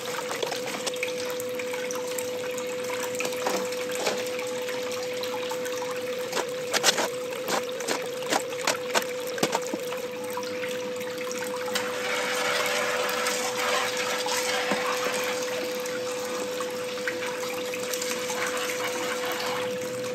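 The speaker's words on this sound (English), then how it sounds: "We're gonna start with the VDR Mini Sluice and run the finest materials through that." Water pumped through a VDR Mini Sluice, washing fine gold-bearing sand, gives a steady rushing gush with a constant pump hum, scattered clicks and splashes in the middle, and no talking.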